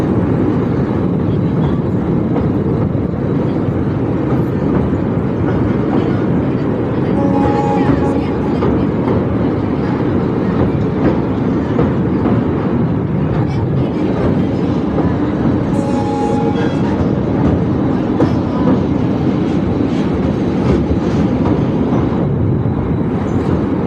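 A passenger train rolls slowly across the Pamban sea bridge between Mandapam and Pamban, a loud, continuous rumble of wheels and carriages heard from inside a coach, with faint speech at times.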